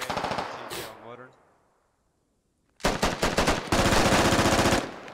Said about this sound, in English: If Old Geezer shoots, he's gonna give his position away